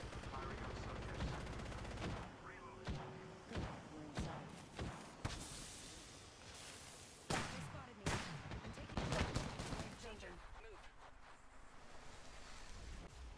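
Gunfire in the Apex Legends video game during final ring chaos, with bursts of sharp shots and cracks scattered over a constant rushing, windy background, fairly quiet overall, with in-game voice lines mixed in.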